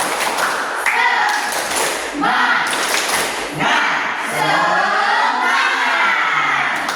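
A fifth-grade classroom of children does a spirit clap together in a quick patterned rhythm, with shouts and voices mixed in throughout.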